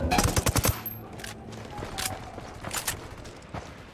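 Gunfire in the Ghost Recon Wildlands shooter game: a rapid automatic burst up close, followed by scattered single shots and fainter reports, loud at first and then thinning out.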